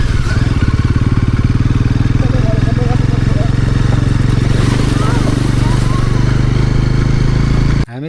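A motorcycle rides along a rough road near Bardibas, its engine giving a close, steady chugging drone that runs evenly until it cuts off abruptly at the end.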